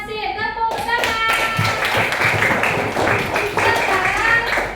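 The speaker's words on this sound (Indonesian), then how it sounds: "Tepuk tangan" A group of people clap together in a classroom training session, a dense steady patter of hands lasting several seconds, with voices calling and talking over it.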